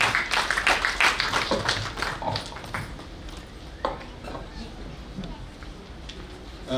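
An audience at a felicitation ceremony applauds, with dense, loud clapping strongest in the first couple of seconds and then thinning to scattered claps, while a person talks over it.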